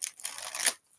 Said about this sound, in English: Let's get 3 shuffles on this deck.